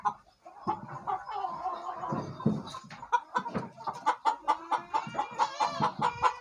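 Chickens cluck close by in a quick run of short, choppy calls that grow more regular and rhythmic toward the end.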